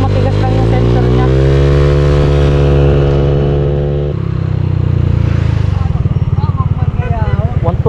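A Honda Click 160 scooter fitted with an RS8 torque drive CVT revs loudly and close up, its engine note holding steady, then dropping and turning rougher and more pulsing toward the end, with no one speaking.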